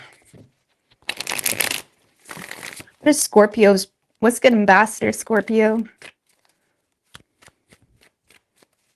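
Tarot cards are shuffled in short crisp riffling bursts, close and loud, alternating with someone talking between the shuffles.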